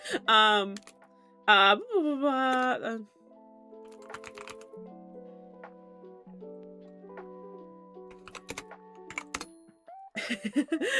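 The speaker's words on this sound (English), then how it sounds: "There's the keyboard clicks, and then there's also my typewriter clicks" Computer keyboard typing with a typewriter-style click sound effect layered on, producing scattered clicks across the middle stretch while tonal voices and laughter fill the start and end.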